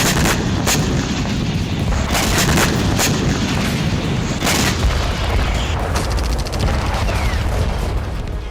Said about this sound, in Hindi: यूक्रेन ने रूस के S-400 मिसाइल सिस्टम को उड़ा दिया है